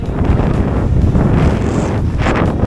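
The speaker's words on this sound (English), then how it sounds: "just look at the wind blowing the sand off the peak of this sand hill" Strong wind blows across the peak of a tall sand dune in Brazil, a loud, steady roar buffeting the microphone and carrying sand, with brief gusty swells and no voices.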